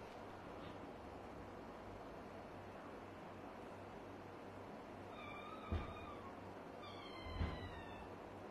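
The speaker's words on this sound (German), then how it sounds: "Ich habe keine Lust, dass du in der Nacht miaust." Cat meowing at night, two brief meows rising out of a steady low background hiss, the second longer and more drawn out, faint and fairly distant, with no talk.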